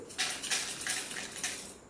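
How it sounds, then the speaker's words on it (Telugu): Rock salt poured into a mixer jar for mint chutney, making a few close, gritty rattling bursts of crystals hitting the jar with nobody talking. "నేను ఇక్కడ కల్లుప్పు వేస్తున్నాను"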